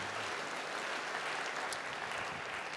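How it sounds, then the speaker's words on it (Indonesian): Church congregation applauding together in a steady, dense wash of clapping, fairly even in loudness from start to finish with no voices standing out. "Beri tepuk tangan bagi dia"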